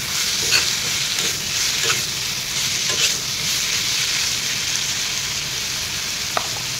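Turmeric and chili powder frying in a pan give a loud, steady sizzle. Several scraping stirs and a sharp clink near the end come from close by.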